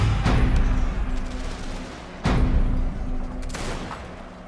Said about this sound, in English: Murderous fire being pushed down upon the enemy.